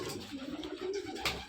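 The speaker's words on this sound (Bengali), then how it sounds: "যেমন চাইবেন তেমন পায়রা আছে এখানে, দামি কম দামি রেসার যা বলবেন তাই আছে।" Racer pigeons at a pigeon farm give a brief, low murmuring coo, fairly close, with soft background noise and a short brighter rustle near the end.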